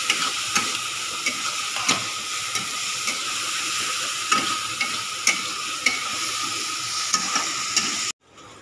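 Black pepper and pasta masala lightly frying in a pan, giving a steady close sizzle and hiss with occasional stirring scrapes and taps throughout.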